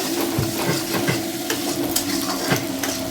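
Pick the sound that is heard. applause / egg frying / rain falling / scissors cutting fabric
egg frying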